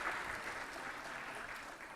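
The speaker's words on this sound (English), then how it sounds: "We got to applaud" An audience clapping at a university president's forum, a dense, even patter of many hands that stays steady from start to finish.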